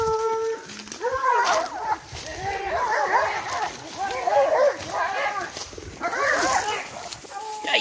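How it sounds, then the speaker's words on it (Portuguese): A pack of American Foxhound hunting dogs hunting paca barks and yelps almost nonstop, overlapping voices echoing a little as though some distance away outdoors. "Os cachorros começaram na batida até que encontraram e encovaram"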